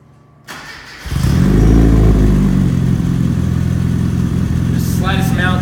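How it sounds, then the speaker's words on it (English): A 1970 Austin Mini's engine cranks and catches, then settles into a loud, close, steady idle that holds for several seconds. A short voice or tone comes in near the end. "I'd like to start it up for you."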